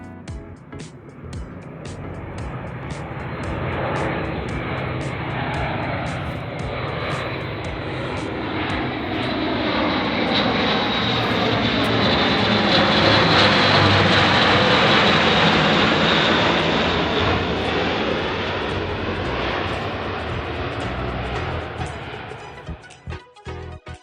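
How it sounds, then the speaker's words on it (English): A fixed-wing aircraft passes overhead, its engine drone swelling steadily to a broad peak midway before easing off, loud and continuous throughout, in the open air on an autumn day. "And you do occasionally see the odd plane flying over."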